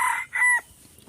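A rooster crows in two short, fairly faint bursts up close, then the sound drops away to quiet.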